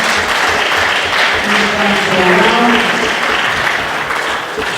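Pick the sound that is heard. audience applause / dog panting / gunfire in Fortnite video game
audience applause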